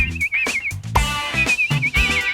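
Whistled bird-call imitations in an animated Simpsons cartoon: a warbling, trilling whistle repeated in short bursts over about two seconds, set against background music.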